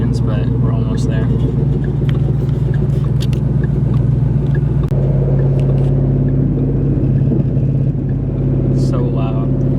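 Inside a 700HP VMP Mustang GT driving with a blown exhaust, a loud, constant low engine rumble fills the cabin while people talk over it.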